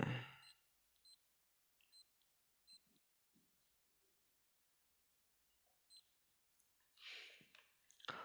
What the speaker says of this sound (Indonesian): Saya bikin alarm dulu untuk Anda.